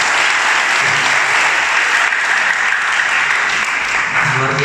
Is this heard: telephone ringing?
no